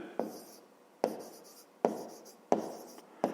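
A pen writes on paper during a fifth-grade math exercise, making five close, quiet, scratchy strokes at a steady pace, each with a crisp start that trails off.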